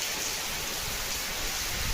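Steady rain falls with a dense, even hiss of drops, close and constant for a couple of seconds, with no voices.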